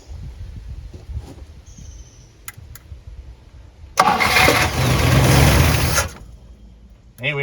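Abandoned 1958 Super car engine cranking and catching on its first start, a loud roar of about two seconds after a quiet stretch, then cutting out, with a brief restart burst at the end.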